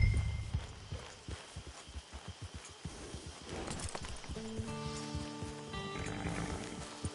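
Horse hooves clip-clopping at a steady walking pace in the video game Red Dead Redemption 2, close and rhythmic, later joined by a sustained musical drone.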